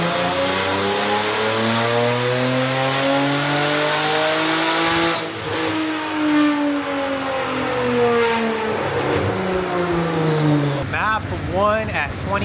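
A twin-turbo Hyundai Genesis engine revs hard on a dyno, its pitch climbing steadily through the gears for about ten seconds before dropping off, with turbo whoosh and flutter at the end and a voice talking faintly underneath.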